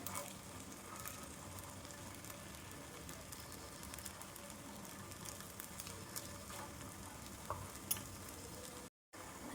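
A chicken wheat dosa fries on a pan over low flame with oil, giving a continuous soft sizzle and crackle with scattered pops, close and steady throughout.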